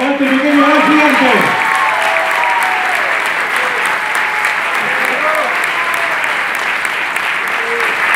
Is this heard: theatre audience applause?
yes